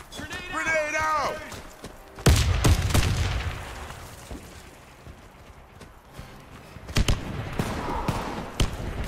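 Gunfire and a grenade blast in the shooter game Warface, heavy booming bursts and rapid shots at close range, with voices calling out over the action.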